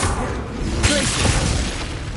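An icy Glacius spell in the Hogwarts Legacy video game, a brief crackling whoosh and burst standing out against a dense bed of battle noise, with a sharp transient near the middle.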